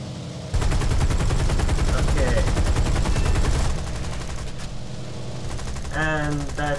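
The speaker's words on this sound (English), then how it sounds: "I basically just switch to gunner view and start shooting them off" In War Thunder, an aircraft gunner's machine gun fires at Zeros in one loud, rapid, sustained burst lasting about three seconds, followed by softer engine drone and a brief voice near the end.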